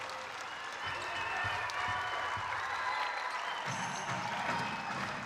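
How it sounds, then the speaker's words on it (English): Sustained applause and crowd noise from spectators at a women's basketball game, LMU versus Portland, an ovation for a player named Alex; steady, moderately distant clapping with some murmuring voices mixed in. "Getting a beautiful ovation from the Child Center"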